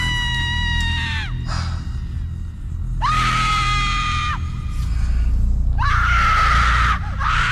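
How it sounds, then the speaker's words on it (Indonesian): A woman screams loudly in pain three times, long piercing wails separated by short gaps, over a low background rumble. "terdengar suara teriakan seorang perempuan menjerit kencang sekali"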